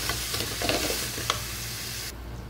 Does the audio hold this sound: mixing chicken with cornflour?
yes